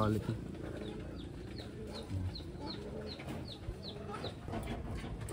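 Bird calls repeat in a quick, even series of short chirps over a background of talk and handling noise, heard at a place where racing pigeons and a gamecock are being shown.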